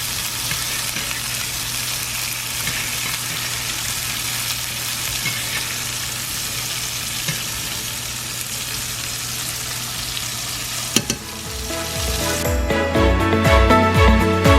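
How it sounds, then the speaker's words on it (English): A steak sizzles steadily in a pan while being basted with butter and garlic, a loud continuous frying hiss that rises and turns more crackly near the end as spoon strokes and clinks join in. "we'll just start basting our steak with that butter and garlic"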